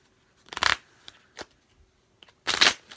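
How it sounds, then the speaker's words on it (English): Two short bursts of cards being riffled together, with a few soft taps and clicks between them. "You shuffle the deck."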